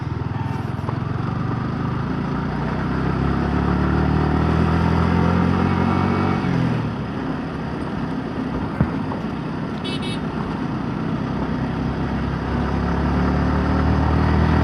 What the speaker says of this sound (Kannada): Of road, full road, quarter road ಎಲ್ಲ ಹೋಗುತ್ತೆ ನಮ್ಮ ಗಾಡಿ.